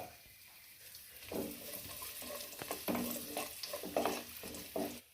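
Cashews and raisins go into a hot pan for semiya upma and fry with a soft sizzle under scraping stirs, in uneven bursts of spoon-on-pan contact, moderately close and fairly quiet.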